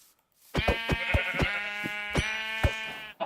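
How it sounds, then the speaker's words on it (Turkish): Sheep bleating in a video game, a steady series of wavering calls, loud and close, with no talking. "Aha koyunlar burada arkadaşlar."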